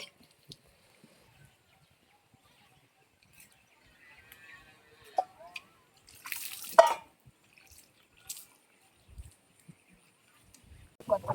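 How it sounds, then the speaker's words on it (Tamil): A stone grinding slab, an ammi, is washed with water in a home kitchen in the morning. Sparse drips and splashes come and go against near silence, with one brief louder burst of splashing near the middle. "அதனால் வந்து அம்மியை கழுவுறாங்க"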